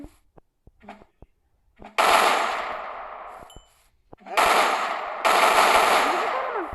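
Loud blasts of a shotgun in a Minecraft gun mod video game, a few heavy booming shots with long ringing tails, preceded by light clicks and a brief voice.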